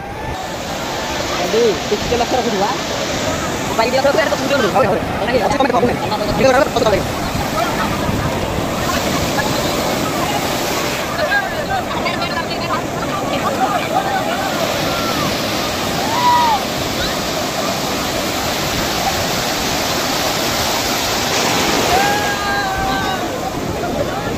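Sea waves washing in on Puri beach in India, a continuous loud churning surf with splashing and wind, while people talk and shout over it.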